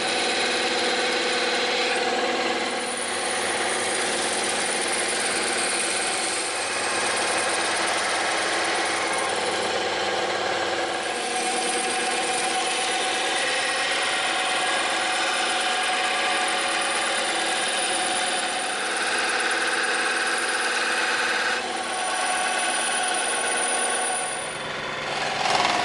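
A band saw with its blade guide lowered cuts through EVA foam, giving a steady, continuous whirring buzz that runs for about twenty-five seconds with small shifts in tone as the cut goes on.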